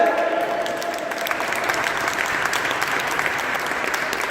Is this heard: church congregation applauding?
yes